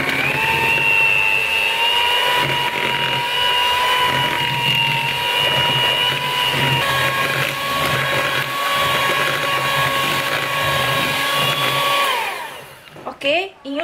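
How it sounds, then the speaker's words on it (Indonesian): A loud electric mixer beats butter and powdered sugar at medium speed for Putri Salju cookie dough, holding a steady whining motor hum for about twelve seconds before shutting off with a few clunks. "Kita kocok dengan kecepatan sedang saja selama kurang lebih"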